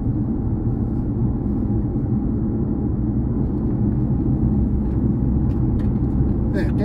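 Inside a Mercedes CLA 200 while it drives, a steady low engine and road rumble holds at an even, fairly loud level throughout, with a few faint higher clicks near the end.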